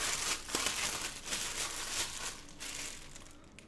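Packaging crinkles and rustles close by as a water dispenser faucet is unboxed, in irregular bursts of crackling plastic and paper handling, with no voices.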